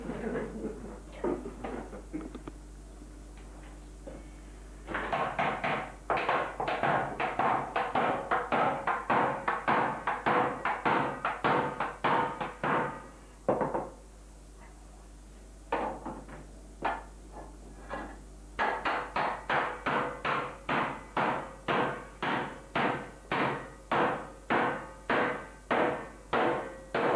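A cooper at St Austell Brewery hammers the hoops down on a wooden barrel with a knocking up stick, sharp rhythmic knocks in rapid bursts, near and loud, with brief pauses between runs.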